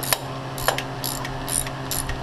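A ratchet clicks in short bursts while tightening the AC idler pulley belt tensioner on a 2.0 Subaru WRX, with quick metallic pawl clicks and pauses between strokes, close by and without talk.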